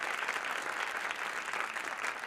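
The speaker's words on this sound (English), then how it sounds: "one more round of applause for the wonderful Mixed Blood Theater" Sustained audience applause for a theater company at a nighttime variety show, a dense, even wash of clapping from a crowd filling the whole stretch without pause.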